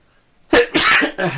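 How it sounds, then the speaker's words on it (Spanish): A single person sneezes in a quiet indoor setting, a sharp close burst followed by two more exhaled bursts of breath and voice, loud and alone with no talk over it. "voy a estornudar"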